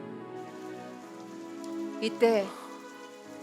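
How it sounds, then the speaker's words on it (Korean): Steady rain falls near a cathedral where a large crowd has gathered, swelling slightly toward the end, with a brief spoken word and faint tonal sounds underneath. "비가 내리기 시작했고 빗줄기는 점점 거세졌습니다."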